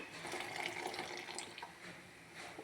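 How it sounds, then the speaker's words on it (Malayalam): Salt water is poured into a boiling ground-spice curry, a steady soft splashing and bubbling liquid sound, faint and close, continuing without pause. "അപ്പോൾ ഉപ്പ് നീരാണ് ഒഴിക്കുന്നത്."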